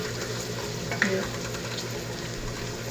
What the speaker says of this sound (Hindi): इसको हल्का सा मिक्स करेंगे ताकि सारा ऑयल भिंडी के साथ लग जाए, वो अच्छे से फ्राई हो जाए।